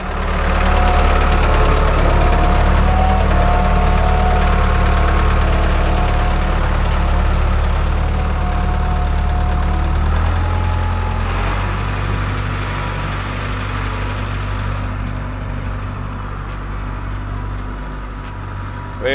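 A tractor engine idles steadily nearby, a low rumbling drone with a faint knocking texture that holds throughout, dropping slightly in pitch and loudness partway through, with no talk over it.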